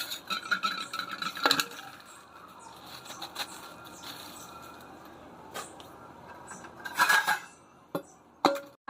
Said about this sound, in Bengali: তো চলো এগুলো আমি প্লেটে ঢেলে নিই